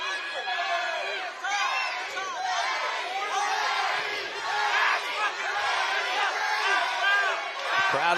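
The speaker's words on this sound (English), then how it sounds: "Crowd is going nuts for their man here." Boxing fight-night crowd roaring and yelling for their fighter, a dense, steady wall of cheers and shouts in a packed arena, loud throughout with rising surges and scattered individual voices.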